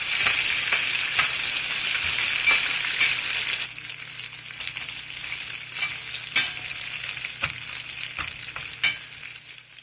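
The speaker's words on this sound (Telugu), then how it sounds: "ఏడెనిమిది పచ్చిమిరపకాయలు ఒకసారి బాగా కలుపుకుని" Green chillies and dried red chillies frying in a pan for coriander tomato chutney, a steady loud sizzle with scraping stirs that drops to a quieter crackle partway through, with occasional sharp clicks of the spoon.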